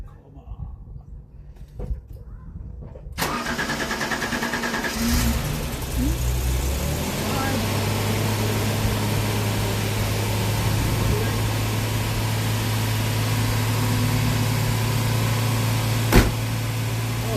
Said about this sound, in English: you'll have to excuse the cold start, because it does like to rev quite high.